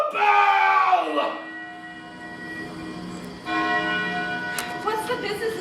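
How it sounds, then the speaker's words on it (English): A church bell rings out loudly in a Macbeth stage production, its resonant tolling strike fading into a long hum before a second strong peal rings through; a voice is heard briefly amid the ringing. "Ring the bell!"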